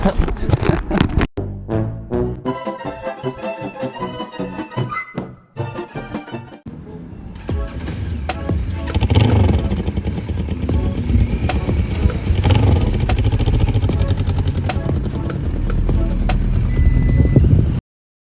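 A Honda CB500 motorcycle engine starts up, then revs and runs loud and close, a rough rising roar that keeps building to the end. Before it starts there is a stretch of other sound with a few abrupt breaks.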